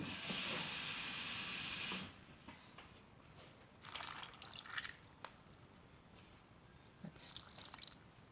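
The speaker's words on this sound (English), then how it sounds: "Add in some water." Water poured into a hot pan while cooking a homemade chicken and vegetable meal with turmeric and salt for a greyhound, giving a loud, steady, steamy hiss for about two seconds that drops to faint sizzling and dripping.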